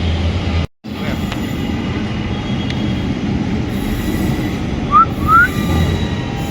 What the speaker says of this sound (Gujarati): મેટ્રો આવે છે ગાઈસ,